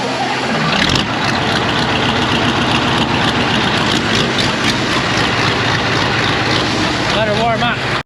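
A combine harvester engine on a Canadian farm during harvest fires up and settles into a loud, steady idle to warm up, rumbling close by while someone talks over it.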